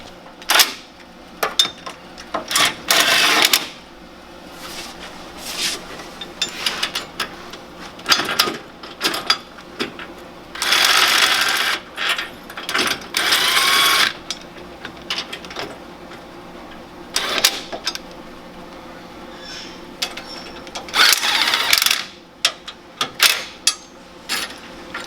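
Brackets on a Land Rover winch bumper being tightened, heard as bursts of ratcheting and mechanical whirring with pauses between them, close and fairly loud.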